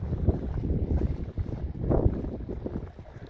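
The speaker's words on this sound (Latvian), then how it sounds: "vējš ir diezgan jaudīgs šodien" Strong, gusty wind buffets the microphone in a low, uneven roar that swells and fades, with a harder gust near the middle; no one speaks.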